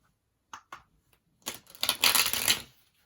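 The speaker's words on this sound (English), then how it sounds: "last shuffle, and then we'll move on" A couple of soft taps on tarot cards, then a quick riffle shuffle ripples for about a second, close and crisp, with no talking.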